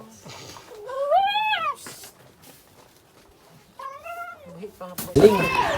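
A cat meows twice, long rising-falling cries close by, with a person talking softly between and a rustling burst at the end.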